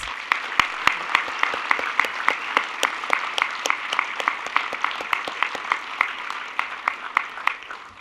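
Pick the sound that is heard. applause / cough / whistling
applause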